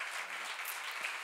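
A church congregation claps together in steady, dense applause during a sermon, heard at a moderate distance with no voices above it.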